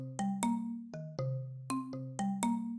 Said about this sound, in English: receives a notification that reminds her to weigh herself